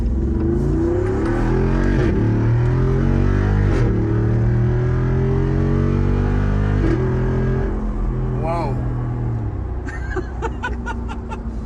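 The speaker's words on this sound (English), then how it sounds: "They're saving the transmission with that throttle cut. I love the sound though." A car engine revs hard and rises through the gears, with abrupt throttle cuts between shifts and a crackling burble as it settles near the end. The sound is loud and close, with faint voices underneath.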